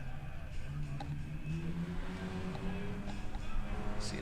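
A drift car runs on a track at a Drift Indy Street League event, its engine holding a steady, moderately loud droning tone throughout with slight rises and falls, heard from a distance.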